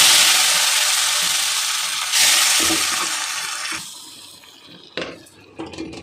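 Garlic, chili and curry leaves are tempered in hot oil for drumstick sambar, giving a loud, close sputtering sizzle that surges, then dies down to faint crackles and a few sharp pops.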